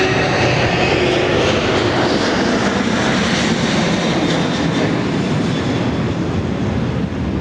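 A jet airliner takes off at Dallas Love Field on a rainy day, its engines giving a loud, continuous roar that holds steady and close throughout.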